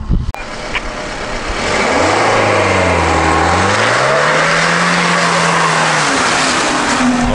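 A Lada Niva with locked differential accelerating on snow, engine roaring loud and steady as revs climb and dip, with a continuous wash of tire and snow noise throughout.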